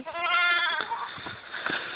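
A young goat kid bleats loudly and continuously at close range in a rural setting in Santiago del Estero, Argentina, a wavering, quavering cry that holds for about a second before breaking into shorter, rougher calls.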